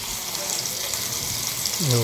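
Spices crackle and sizzle in hot oil with a constant hiss, close up, tempering for a wild mushroom dish, and a voice begins speaking right at the end.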